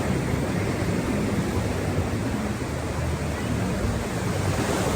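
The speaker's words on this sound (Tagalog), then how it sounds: "Medyo mataas yung alon" Surf washes continuously onto the beach at Playa Dorada in Punta Perula, Jalisco, Mexico, where fairly high waves make a steady broadband roar mixed with wind buffeting the microphone.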